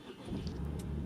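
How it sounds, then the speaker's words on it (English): A car engine starting in a garage and settling into a low, steady idle rumble, fairly close, with no talk. "So I'll just start the car up now, just to show that everything now works."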